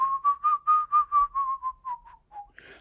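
A person whistles a slow, descending chromatic line in imitation of an orchestral flute part, about a dozen short separate notes sliding gradually downward, close and clear with no other sound.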